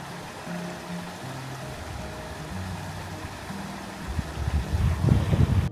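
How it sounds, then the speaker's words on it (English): A boat cruises along a river with a steady drone of engine and water, joined by wind buffeting on the microphone that swells louder toward the end. "We're on the river now and we're just kind of cruising along."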